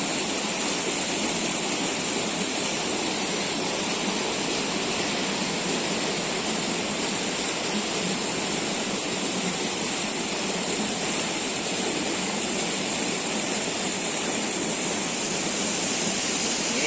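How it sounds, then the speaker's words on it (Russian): A large waterfall high in the Uch-Kosh gorge roars as a steady, loud, unbroken wash of falling water, close by and with no voices over it. "смотрим, как водичка падает. Не падает, а летит вниз"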